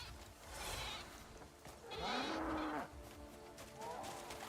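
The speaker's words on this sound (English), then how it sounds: "That was a goat." A goat in the video game Crimson Desert gives a drawn-out, wavering bleat at moderate volume, then a shorter second call trails off, over a steady bed of game ambience with no talking.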